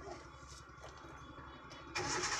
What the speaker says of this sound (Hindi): अभी क्लच दबा के इंजन ऑन करो।